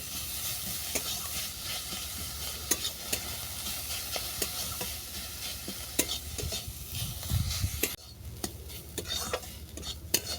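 Spices, salt and sugar are stir-fried in a pan for a vegetarian fig kofta curry, giving a soft sizzle broken by sharp, irregular scrapes and clicks of a spatula against the pan. It is near, fairly quiet and has no talk.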